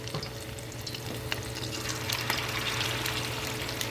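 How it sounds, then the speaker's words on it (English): Soft continuous sizzle of about half a cup of oil frying in a pan for chicken fritters, a faint crackling hiss that stays steady for a few seconds. "remember, you're frying, so you need enough to fry."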